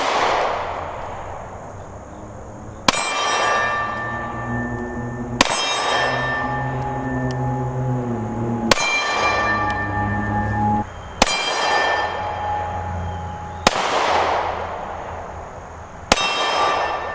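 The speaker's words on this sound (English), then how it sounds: "Let's take some shots at the gong." Gunshots from a Smith & Wesson M&P Shield X pistol strike a steel gong, seven sharp clangs spaced a few seconds apart, each ringing out with a long metallic decay before the next.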